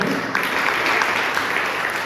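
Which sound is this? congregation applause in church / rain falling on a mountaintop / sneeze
congregation applause in church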